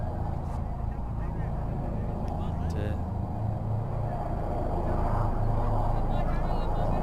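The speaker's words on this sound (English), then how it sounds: "There you go, the choppers again." Helicopters flying over a cricket ground in Rome during a T20 match, a steady heavy rotor and engine rumble filling the background throughout, with a commentator talking over it.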